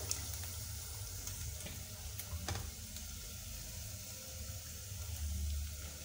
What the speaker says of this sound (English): So this water, I'm just gonna pour it there.